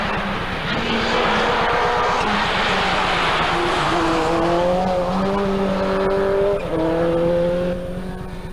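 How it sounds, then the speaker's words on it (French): A Toyota Corolla rally car with an engine problem at the Gorbatschow Ice Rally 2000 revs hard on ice, a loud close engine climbing and shifting through gears, with brief tire noise. "La voiture continue à rouler,"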